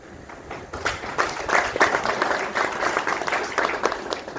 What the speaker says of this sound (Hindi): ये ताली आपकी अधूरी है